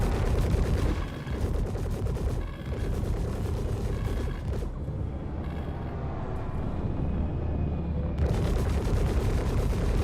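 Turret gunfire from two Gladiator ships in a video game: dense, continuous rapid fire with heavy booms, briefly thinning midway before resuming at full strength, with no speech over it.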